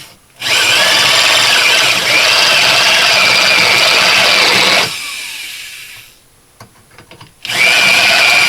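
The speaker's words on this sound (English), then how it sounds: "Maybe it's just the age of the drill, I guess." An older power drill whirs loudly and close in a long continuous burst, stops briefly with a few faint clicks and handling sounds, then spins up again sharply.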